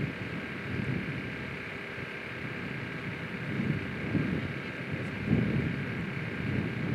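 Wind gusting across an outdoor soccer field in Balch Springs on a very cold, windy day, a steady low rumble of buffeting against the microphone with a few stronger gusts swelling, no voices.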